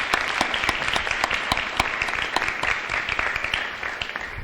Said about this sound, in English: how about we give these guys a round of applause for all they've done for us